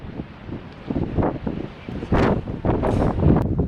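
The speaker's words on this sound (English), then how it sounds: "it's too windy to film here" Gusty wind at Giant's Causeway buffets the microphone, surging in strong rumbling bursts with a rustling hiss.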